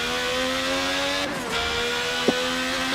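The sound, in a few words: McLaren MP4-4 F1 engine revving in video game Forza 7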